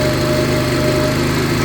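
A fuel-injected motorcycle engine idling steadily after starting without a choke, a loud buzzing drone with an even pulsing rhythm and no voices.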